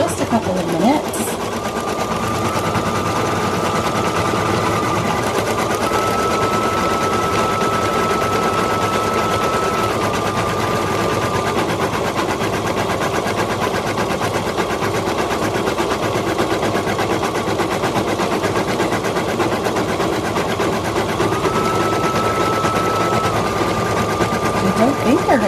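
Two embroidery machines stitching felt masks, a loud continuous rapid needle chatter with a humming motor, close and steady throughout with no break.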